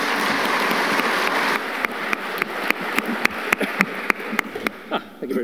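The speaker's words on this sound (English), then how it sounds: "Please give them a huge round of applause while I come and join them." At a conference plenary session, audience applause for a panel starts as a dense wash, then thins into scattered individual claps that fade out.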